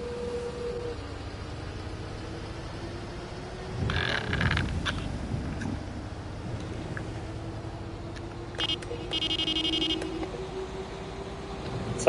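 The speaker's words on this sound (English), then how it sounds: "It sounds like a buzzer more than it does a horn" A bus horn sounds in a few short, buzzy blasts over steady road and engine noise, fairly close.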